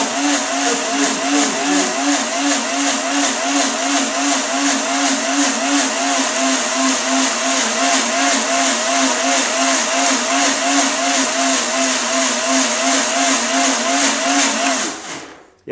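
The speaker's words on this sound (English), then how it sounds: "it is a very powerful blender" A powerful Omega blender whirs steadily while mixing fig pudding with sesame and chia seeds, a loud continuous buzzing drone with a slight pulsing wobble for about fifteen seconds before abruptly switching off.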